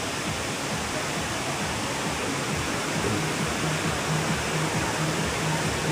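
Mountain spring water streams down from midway up a cold mountainside, a steady, full rushing wash like a small waterfall that stays constant and fairly loud throughout, with no voices.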